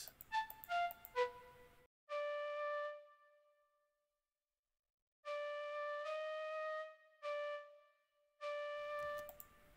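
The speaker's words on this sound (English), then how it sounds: "Add another counter melody that's quiet. I added this flute from Citrus. Sounds like this." A quiet, soft synthesized flute from the Citrus plugin plays a trap beat counter melody. Its short runs and held notes trail into reverb tails, with a silent gap in the middle of the phrase.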